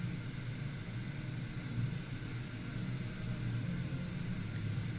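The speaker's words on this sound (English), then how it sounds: "we have the static sound, that's good" Faint, steady hiss of FM radio static from an Onkyo TX-1500MK2 receiver with no FM signal, an even unbroken wash of noise with no voices.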